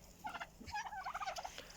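Chickens free-ranging on grass in a farmyard, a few soft clucking and chattering calls over a couple of seconds, fairly near but quiet, with no voices.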